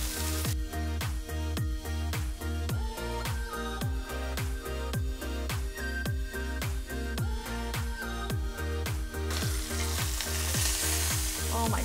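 Ribeye steak sizzles and spits steadily in a hot cast iron pan, with a dense, even frying hiss and regular scraping or stirring strokes that repeat in a steady rhythm throughout.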